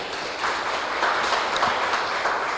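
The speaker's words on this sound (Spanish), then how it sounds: "Démosle un fuerte aplauso al Señor" A church congregation breaks into sustained applause during a Spanish-language sermon, many hands clapping together in a dense, even wash of sound that swells slightly and carries on without talk.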